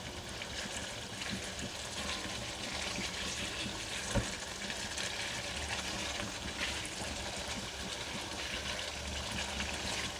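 Ginger and coriander are stirred into chicken karahi in a pan amid a steady, continuous sizzle and frying hiss, with one faint clink of the spoon partway through and no talking.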